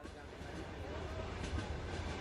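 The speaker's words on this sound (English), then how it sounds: "Imagine you're on le métro." Metro train rolling along the rails, a low continuous rumble with a faint rhythmic clatter beneath a speaking voice.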